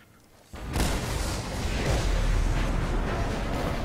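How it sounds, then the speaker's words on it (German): A video-game explosion from Mad Max, set off at an enemy stronghold with an oil pump: a sudden loud blast that hits after half a second and rolls on as a sustained, dense rumble with no talk. "Ja, schöne Explosion."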